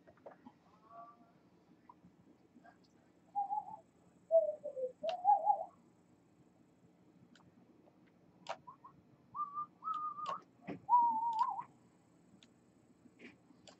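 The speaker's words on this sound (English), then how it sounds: "Is that you whistling?" Someone whistling a short, wandering tune in separate faint phrases with pauses between them, set against a quiet, low background hum, with no talking.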